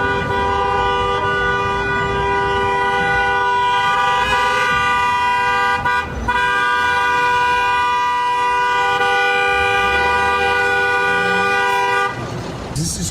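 Car horns honk continuously in a town street as a Formula One race arrives, steady sustained tones layered together, with traffic noise underneath and a brief break near the end.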